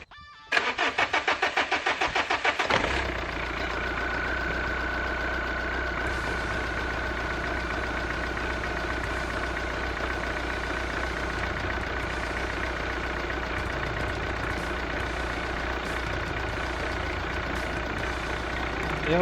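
A car engine with injector number 4 swapped into place cranks with rapid starter chatter for a couple of seconds, then catches and settles into a steady, even idle that runs on unchanged.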